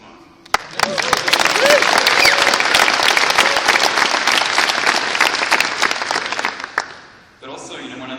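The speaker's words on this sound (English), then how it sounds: "Round of applause. Come on." Audience applause at a Go programming conference closing keynote, a dense burst of many hands clapping that swells quickly and holds steady for several seconds before fading out, with a voice briefly heard at the end.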